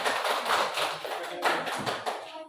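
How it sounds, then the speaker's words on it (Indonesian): Group applause in a classroom setting for a student team, a burst of many hands clapping in uneven surges that fades out at the end, fairly close and lively. "Tepuk tangan buat kelompok dekomposisi."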